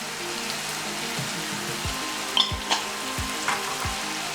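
Curry spice hits a hot pan of vegetable stew base, giving a steady close sizzle and frying hiss with a few sharp pops and stirring clicks, with no voices.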